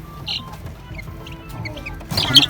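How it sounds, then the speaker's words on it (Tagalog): Chicks in a rooftop poultry pen give a few high, thin peeps, brief and fairly close, over a low background hum, with a busier flurry of chirps near the end. "ito na yung mga sisiw natin"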